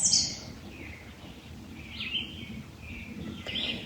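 Faint birdsong in a calm spring outdoor setting, a few brief high chirps scattered over a low steady background hum, with no talking.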